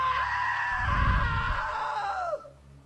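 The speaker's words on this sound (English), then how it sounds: "Now that was a great scream." A long, loud scream from a character in the video game What Remains of Edith Finch, held for about two seconds with a deep rumbling layer beneath, then cutting off sharply into quieter background noise.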